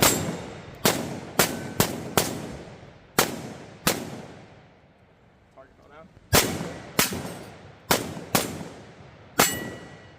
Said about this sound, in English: I brought the AK down here, so we're gonna shoot it.